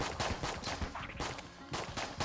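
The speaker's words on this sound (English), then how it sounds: "Oh, there's an explosion." Repeated explosions and gunfire bursts from the roguelike shooter Enter the Gungeon, loud and close, arriving in a rapid, uneven series of blasts throughout.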